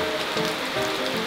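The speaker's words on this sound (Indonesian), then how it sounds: "Ini hujannya deras sekali kan" Heavy rain falls steadily as a dense, even hiss of drops on surfaces, continuous and fairly loud with no voices.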